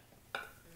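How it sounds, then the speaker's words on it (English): A quick stir of Tom Yum Goong soup with cilantro in the pot, one brief sizzling swish that fades fast, close and fairly quiet. "Give it a quick stir. Let that cilantro get hot."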